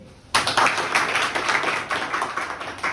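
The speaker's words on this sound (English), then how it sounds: "Just clapping it." Students in a math classroom clap together, a sudden burst of dense hand claps starting abruptly and continuing steadily, close and fairly loud, with no talking over it.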